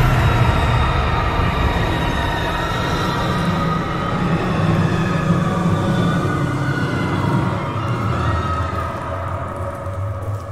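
A subway train roars past in the indie horror game Golgotha, loud and close, with rattling wheels and high metallic screeches over a heavy rumble that slowly fades toward the end.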